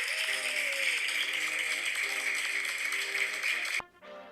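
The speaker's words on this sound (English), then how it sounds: "Let's give him a big round of applause." Applause for a guest named Luis on a One Love show episode, a steady wash of clapping that holds evenly for nearly four seconds, then cuts off abruptly into quieter room sound.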